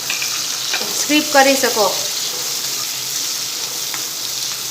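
Chopped onion sizzles and fries steadily in a hot pan, a continuous close hiss with a brief stir, while a voice speaks briefly over it.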